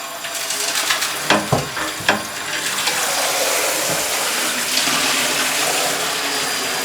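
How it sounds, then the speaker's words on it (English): Water pours and splashes through a gold sluice nugget trap on a high banker, a loud continuous rush with a few knocks and sloshes early on. "We'll wash out the nugget trap."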